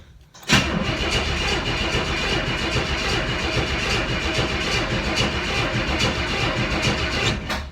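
A 1964 Pontiac Tempest engine, sitting unused for over a year, cranks and catches with a sudden loud onset, then churns steadily and roughly at close range for several seconds without pause.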